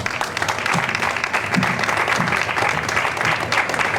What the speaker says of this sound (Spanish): un aplauso muy grande para todas ellas.